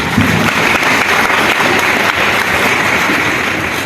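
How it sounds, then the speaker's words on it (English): A school audience at a Republic Day celebration claps loudly and steadily, a thick wash of many hands sustained for about four seconds without pause. "All of you, big round of applause."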